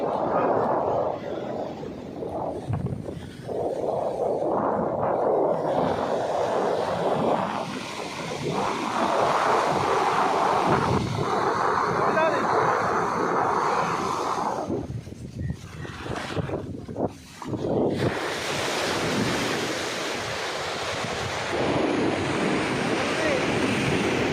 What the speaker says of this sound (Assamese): সাগৰ ঢৌ দেখিছে নহয়?